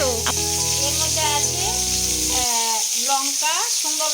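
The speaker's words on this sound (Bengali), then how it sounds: "আদাটাকেও এর মধ্যে মা ফ্রাই করে নেবে" Ginger frying in a pan for a spice paste, giving a steady bright sizzle close by while a voice talks over it.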